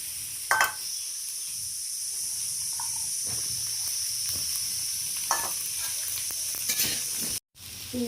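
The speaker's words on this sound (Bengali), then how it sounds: "প্রথমত আমি আলু বেগুনটা হালকা করে একটু ভেজে নেব।" Potato and eggplant frying in mustard oil in a pan, a steady close hiss and sizzle with occasional crackles and utensil knocks, cutting out briefly near the end.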